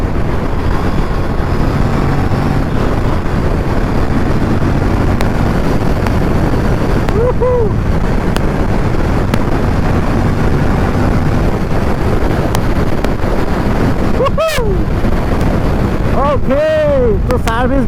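An Aprilia Tuono 457 motorcycle pulls hard from fifth gear, a loud, steady engine roar under heavy wind rush, with a few brief sweeping tones near the end.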